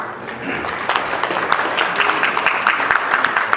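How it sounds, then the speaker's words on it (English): Audience at a crypto trading conference in Seoul applauds a panel, a steady wash of dense clapping that holds close and loud throughout with no talk over it. "Let's give them another big round of applause for this great job."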